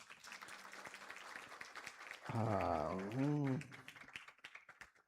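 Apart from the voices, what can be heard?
audience clapping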